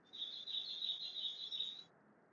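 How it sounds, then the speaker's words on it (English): Birdsong rings out in a steady, high twittering trill for about two seconds, then fades, over quiet background. "Even the birds are waking up."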